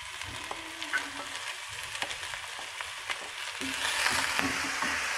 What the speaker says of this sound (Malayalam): സവാളയും പച്ചമുളകും വെളുത്തുള്ളിയും എല്ലാം കൂടെ നമുക്ക് ഒന്നിച്ച് ഇട്ട് വഴറ്റിയെടുക്കാം